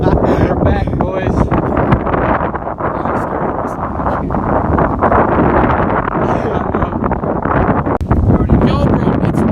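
Strong wind gusting on a pier at night, loud and constant buffeting roar across the microphone with people talking and shouting over it.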